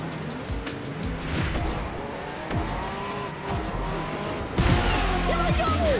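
Racing cars in the video game Speedstorm roar steadily with revving engines, swooping pitch shifts and occasional tire squeals, growing louder near the end.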